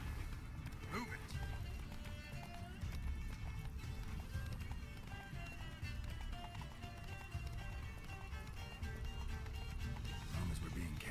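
Roach the horse gallops in The Witcher 3 game, a steady rapid clip-clop of hooves over constant game music and effects, with a brief whinny and people talking over it.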